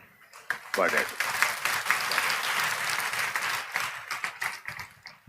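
Congregation at a Telugu Christian church service clapping together in a brief burst, a dense patter of many hands that swells quickly and holds steady before thinning out, with voices faintly mixed in underneath.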